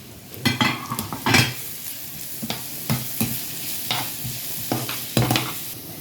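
Vegetables including carrot and onion frying in a pan, stirred and mixed with repeated scraping strokes of a utensil over a continuous sizzle, close and fairly loud, no talk.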